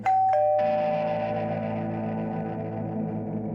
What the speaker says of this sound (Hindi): अचानक से घंटी बजी।